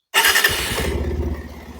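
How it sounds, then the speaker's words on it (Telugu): A Bajaj Pulsar 150 motorcycle starts with a brief loud crank that catches at once, then settles into a steady, close idle with no talking. "సో బైక్ అయితే స్టార్ట్ అయిపోయింది."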